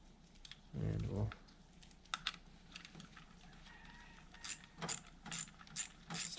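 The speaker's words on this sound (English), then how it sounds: "Flip the ratchet the right way," A ratchet wrench snugs up bolts on a motorcycle clutch, giving short bursts of clicking pawl strokes at close range, with a thump early on and quiet between strokes.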